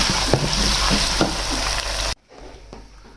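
Onions frying in a pan with garlic-ginger paste, a dense close sizzle with a few stirring knocks that cuts off abruptly, leaving a quieter background hiss.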